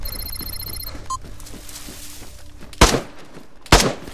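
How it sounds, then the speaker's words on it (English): Two sharp, loud gunshots crack out in DayZ a second apart and stand out against a quieter background of faint tapping and ambient noise. "I'm getting shot as well."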